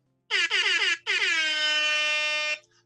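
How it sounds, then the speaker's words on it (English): A loud air horn blasts in three short bursts, then one long sustained blare of about one and a half seconds, alone with no talk. "That's an air horn."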